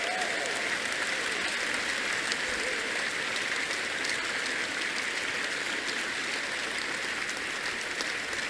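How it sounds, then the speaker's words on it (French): Sustained applause from a large congregation at a church service fills the space, a dense, steady roar of clapping that continues evenly without pause. "Give the Lord the biggest hand."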